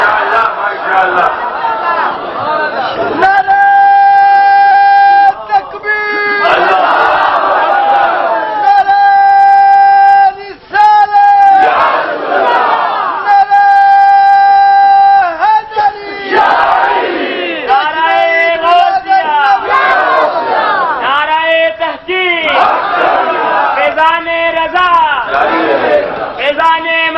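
At a religious gathering, a large crowd chants in loud, sustained, rhythmic unison in response to a leader's slogans, with bursts repeated over and over and echoing through amplification.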